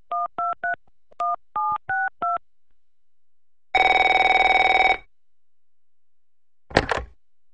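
A cartoon telephone keypad gives two quick groups of short dialing beeps, then a ringing phone sounds in one long burst, followed by a brief clatter as the call is picked up.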